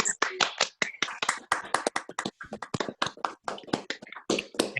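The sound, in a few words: online meeting participants clapping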